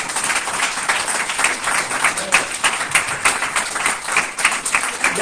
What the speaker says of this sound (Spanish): Un aplauso fuerte a ese Dios.